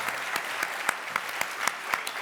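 Light applause from a panel audience at an environmental conference session, a handful of distinct claps ringing out in a loose rhythm over a brief stretch.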